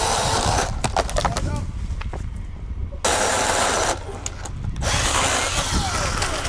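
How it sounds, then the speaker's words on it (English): A Milwaukee Fuel brushless battery chainsaw cuts through a tree, a loud close whine that revs, drops away briefly twice, then resumes steadily. "this thing is the new Milwaukee fuel brushless chainsaw"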